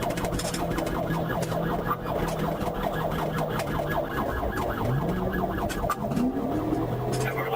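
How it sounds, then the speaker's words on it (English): A loud wailing police car siren cycles continuously during a high-speed chase, its pitch sweeping up and down over steady traffic rumble, close and dominant throughout. "Despite lights and sirens blaring"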